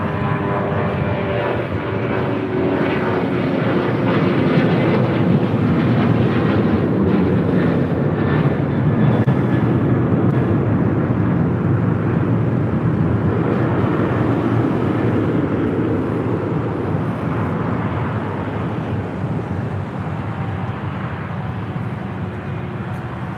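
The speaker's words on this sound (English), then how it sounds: "Next takeoff here on the south side, United Airlines flight 1416 heading to Houston, Texas, 737-900" A United Airlines Boeing 737-900 takes off at LAX, its engines giving a loud, sustained roar that holds steady for over twenty seconds and eases slightly toward the end, with no voices over it.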